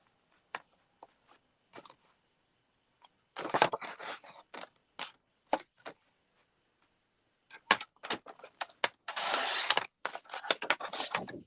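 Paper or cardstock being trimmed to size for a fancy fold card: sharp, close cutting strokes and clicks, some quick single snips and a few longer bursts, with quiet gaps between.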